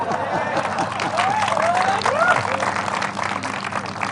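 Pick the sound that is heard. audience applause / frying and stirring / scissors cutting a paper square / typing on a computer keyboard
audience applause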